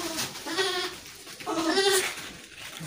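Goats bleating on a Nigerian goat farm, several wavering calls overlapping in two bursts, fairly close, with a faint voice in the background.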